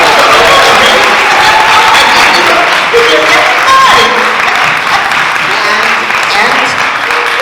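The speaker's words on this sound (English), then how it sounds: "give another round of applause to Sugar Sullivan" A dance-camp audience applauds swing dancer Sugar Sullivan at Camp Jitterbug, a loud, continuous wash of clapping and crowd noise sustained throughout, with voices mixed in beneath.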